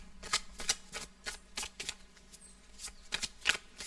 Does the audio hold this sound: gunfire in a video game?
no